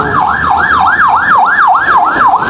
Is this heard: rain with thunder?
no